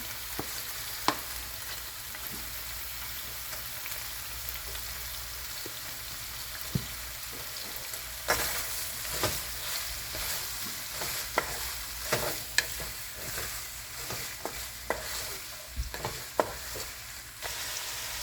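Chopped onion frying in a pan with pieces of drum fish or tilapia for a braise, a steady close sizzle broken by frequent scraping and clacking stirs; no one speaks.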